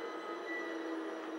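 A Class 377 electric train in Train Simulator 2014 passes at a station, a steady rushing whine with a high squealing tone, heard close and continuous with no talk.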